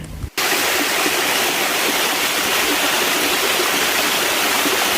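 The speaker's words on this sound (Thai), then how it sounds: "ที่นี่เป็นน้ำตกใจกลางทะเลทรายนะคะ" Waterfall in the middle of the desert near Kerman, a loud, constant rushing roar of falling water that begins abruptly after a brief quiet moment and carries on unbroken, close by.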